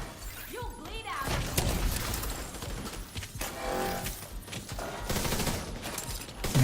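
Sniper gunfire in The Division, a sharp crack followed by rattling automatic fire, smashing and clattering impacts in a busy firefight, with a voice speaking over parts of it.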